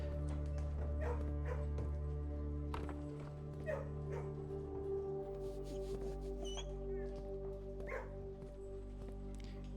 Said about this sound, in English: So these are the 4 dogs.